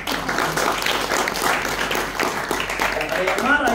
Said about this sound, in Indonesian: tepuk tangan saudara adalah untuk persetujuan